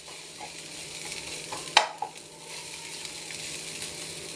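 Kovakka (ivy gourd) thoran is stirred in a pan, a quiet, steady sizzle broken by a sharp clink of a spoon against the pan and a couple of soft scrapes.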